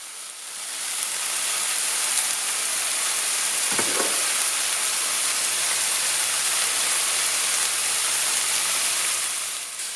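Jackfruit with seasonings, pepper and onion frying over high heat in a pan for vegan ropa vieja: a loud, dense, continuous sizzle close by, with one brief stir partway through and no one talking.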